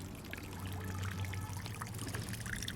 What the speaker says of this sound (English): there's water dripping off there's a gutter with no downspout